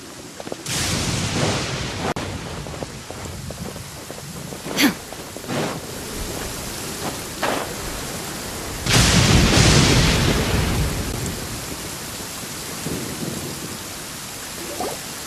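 Heavy rain in a Genshin Impact storm, with several sharp thunder cracks and a long rolling rumble near the middle, loud and close.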